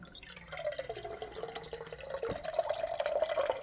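Water drips and trickles from water filter plumbing just after the pressure is relieved, a close, steady patter with a faint running tone and no talking.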